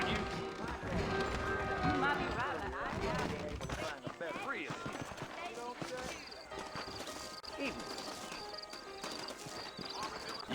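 Horse hooves clip-clop quickly in a running rhythm in the video game Red Dead Redemption, with a horse whinnying and faint voices mixed in beneath the hoofbeats.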